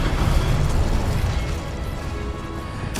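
Incendio fire spell cast in Hogwarts Legacy: a loud, sustained roaring burst of flame with a deep rumbling body, continuing for about three seconds and ending in a sharp crackle.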